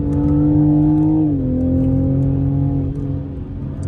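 A Toyota Supra engine drones steadily while driving, its tone dropping slightly as it shifts, loud and close throughout.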